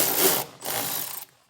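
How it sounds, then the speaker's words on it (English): Ratchet fitted with an 8mm socket backing out plastic wheel-well liner fasteners on a 2025 Ram 2500, two quick bursts of close, loud rapid clicking separated by a brief pause, with no talking. "I'm using an 8mm socket"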